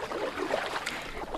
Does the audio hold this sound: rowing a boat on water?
yes